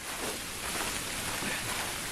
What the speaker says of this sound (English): It's continuing to freezing rain. It's starting to build up some accumulation on the ground.